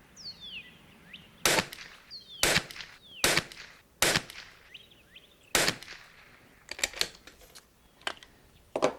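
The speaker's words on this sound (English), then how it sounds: "it doesn't look like we're going to be shooting 10X out of the factory Bergara rifle at all" A factory Bergara B14R .22LR rifle firing at a range: several sharp, moderately loud cracks at irregular intervals, with fainter distant shots and a quiet background between them.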